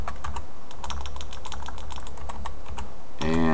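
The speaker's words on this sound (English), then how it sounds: "I'm going to go ahead and type in items" Rapid clicking keystrokes on a computer keyboard while entering code, a dense, close, steady patter with a voice starting right at the end.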